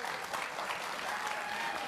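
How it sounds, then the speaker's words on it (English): A studio audience at a televised game show claps in steady, dense applause, close and continuous from start to finish. "Put a round of applause"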